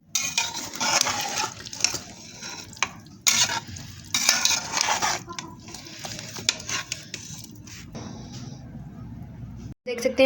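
Aloo keema with capsicum and coriander being stirred in a pan: repeated bursts of scraping and clattering against the metal over an underlying sizzle, irregular strokes with pauses, close and fairly loud.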